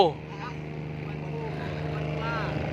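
A fishing boat engine drones steadily nearby at a coastal fishing pier in Pattani, Thailand, a low continuous hum with a faint rising whine, while someone talks over it.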